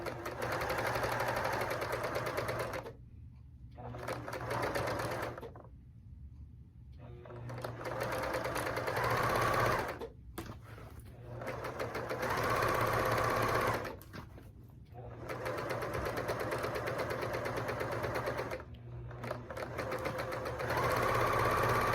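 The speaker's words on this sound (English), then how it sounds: "sew across the bottom of the pillowcase" A sewing machine stitching across the bottom of a pillowcase, running in several steady bursts of fast whirring with brief pauses between, close and clear.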